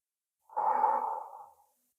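One long, steady exhale out through the mouth during a calming breathing exercise, close and breathy, lasting just over a second and fading smoothly into silence with nothing else heard.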